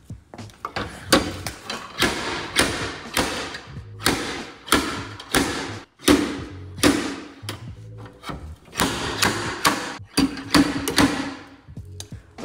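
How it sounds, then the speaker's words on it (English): Repeated sharp metallic bangs and thuds in an uneven rhythm, close by, as a slide hammer yanks on sheet metal of a car's front radiator support and inner fender, with no talking. "if I can get the slide hammer hooked around right here, maybe I could just yank this outward"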